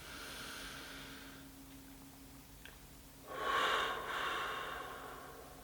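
Slow, quiet breaths during a guided breathing exercise: a long soft exhale fades out, then after a pause a stronger, airy inhale swells through the nose and tails off, close and alone in a still room.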